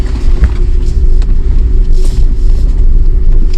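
Jeep Wrangler 4xe driving off-road over a rough, rutted track, a steady low engine and drivetrain rumble with occasional knocks and rattles, loud and close throughout.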